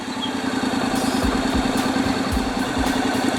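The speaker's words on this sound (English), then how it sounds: "Start the bike." A motorcycle engine idling in neutral, a steady low rumble with faint periodic thumps, close and continuous throughout with no talking.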